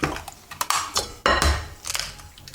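Almond sweet pastry dough being mixed by hand with two whole eggs in a bowl, giving irregular scraping and clinking of a utensil against the dish, close and moderately loud, with no talk.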